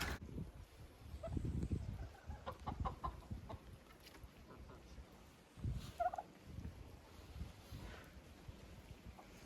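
Roosters in a chicken coop give repeated clucking calls and a couple of sharper crows, close and moderately loud, over low background rustle. Nobody speaks.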